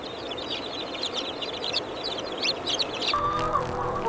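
Meat chickens raised on a pasture farm cluck and chatter in a dense flock, a continuous murmur of overlapping calls that grows slightly busier toward the end.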